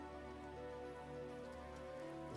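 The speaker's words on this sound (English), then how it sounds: "It's raining again." Steady rainfall in the Vintage Story video game, a soft continuous patter on surfaces, faint and even throughout, layered over a sustained tonal background hum.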